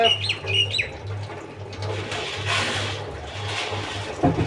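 Pigeons bathe and splash in a shallow water bath, with wet flapping bursts and a few short chirps early on, over a steady low hum.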